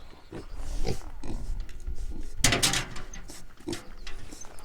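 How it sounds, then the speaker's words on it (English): A pig grunts and snuffles close by in a Chinese fortress village, a few short bursts with one louder rustling or knocking sound midway, no talking. "I love little piggies."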